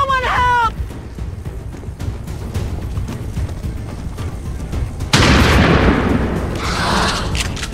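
Incoming gunfire and explosions from the video game XCOM 2 rumble under a brief opening voice, then build into a loud, sustained barrage of booms and crackling shots.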